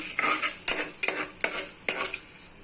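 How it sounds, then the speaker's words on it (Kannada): Chana dal frying in hot oil, with a crackling sizzle and several sharp scrapes and clinks of a spoon stirring against the pan at irregular intervals, close and fairly loud. "ಕಡಲೆಬೇಳೆ ಸ್ವಲ್ಪ ಗೋಲ್ಡನ್ ಟೈಪ್ ಬರೋವರೆಗೂ ಫ್ರೈ ಮಾಡ್ಕೊಳ್ಳೋಣ"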